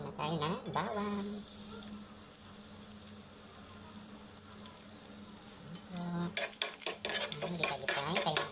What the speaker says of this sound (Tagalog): Ngayon, magigisa na po na tayo ng bawang.